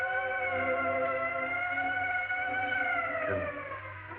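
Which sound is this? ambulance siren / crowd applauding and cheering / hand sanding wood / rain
ambulance siren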